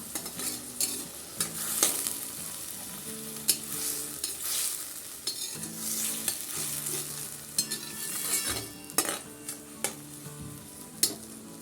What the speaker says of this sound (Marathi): टॉमॅटो आपल्याला छान मऊ होईपर्यंत परतून घ्यायचं आहे